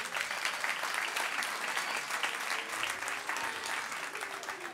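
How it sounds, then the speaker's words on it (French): Continuous applause from a family church congregation for a group of young children, a steady, even roar of many clapping hands heard from within the crowd. "Est-ce qu'on peut applaudir tous les petits Avengers qui sont devant moi là?"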